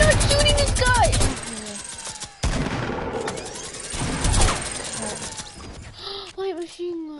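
A minigun fires in Fortnite in dense, rapid bursts that come loud and close, broken by short gaps, while excited voices talk over the gunfire.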